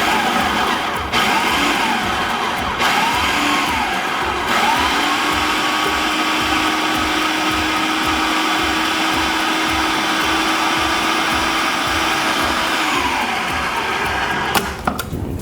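A blender pulses plant-based, gluten-free brownie batter made with beans, oil, sugar and nut milk, a loud steady whirring motor grinding continuously for about fifteen seconds before stopping, with no voices.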